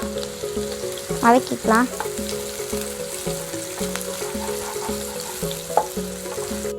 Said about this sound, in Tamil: இஞ்சி பூண்டை தட்டி வச்சுருந்ததை சேர்த்துக்கலாம். எல்லாத்தையும் போட்டு நல்லா வதக்கிக்கலாம்.